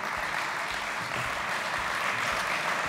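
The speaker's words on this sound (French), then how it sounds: "Bienvenue, vous pouvez applaudir Paul Samanos." An audience at the Prix Handi-Livres 2018 award ceremony claps steadily for Paul Samanos, dense applause that stays loud and even throughout.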